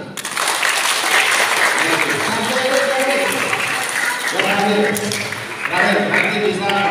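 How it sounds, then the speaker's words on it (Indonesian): Schoolchildren clap loudly together during a police visit to their school, a dense burst of applause with voices and shouts mixed in, dipping briefly before surging again. "Tepuk tangan."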